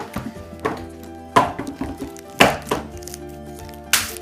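Knife slicing through a cookies-and-cream style cookie, several distinct crisp cuts and thunks at an uneven pace, close and fairly loud with no talking.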